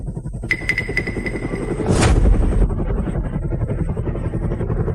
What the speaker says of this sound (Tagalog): Aba, may helicopter talaga.